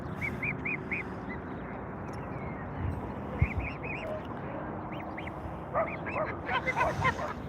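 Several geese with goslings honk in short bursts over a rumbly outdoor background, the calls growing busier and more overlapping toward the end, with one sharp knock midway.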